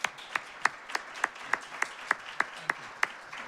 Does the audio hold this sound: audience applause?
yes